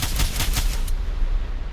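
A rapid burst of gauss rifle shots from an R-101 carbine in Fallout 4, a few loud, evenly spaced cracks that last under a second and then fade into a ringing tail.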